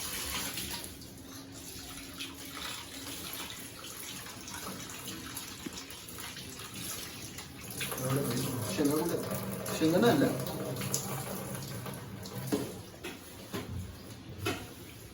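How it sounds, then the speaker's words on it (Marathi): Tap water runs and splashes in a sink while raw chicken is rinsed, growing louder midway; a voice speaks briefly over the flow. "आपण आता चिकन वगैरे मस्त धुवून घेऊया"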